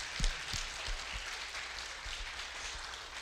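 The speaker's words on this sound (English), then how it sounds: "So can we like clap one time," A church congregation on a mission Sunday claps for a helper, a soft, diffuse patter of hands with a few nearer thumps, steady and moderately quiet throughout.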